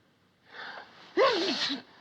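A single sneeze: a sharp inhaled gasp followed by a loud, explosive burst, heard close and alone.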